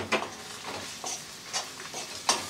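Soft stirring and light sizzling of greens sautéing in a pan, with a few scraping clinks of a utensil against the metal.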